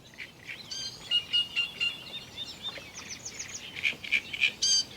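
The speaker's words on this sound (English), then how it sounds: "In the distance I hear loud and clear the great reed warbler." A great reed warbler sings loud, harsh, croaking phrases in repeated bursts, fairly close and clear over a quiet background.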